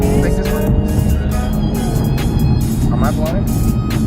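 A 2019 Infiniti Q60S Red Sport engine runs at a steady drone, with a person talking over it.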